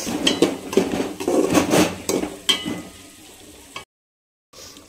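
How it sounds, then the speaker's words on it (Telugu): A metal spoon clanks and scrapes against a pan while tomato and ginger paste is stirred, giving a run of irregular knocks that fade before a short silence. "ఇప్పుడే టొమాటో కూడా వేసుకొని ఇట్లా కలిపేసుకోవాలి."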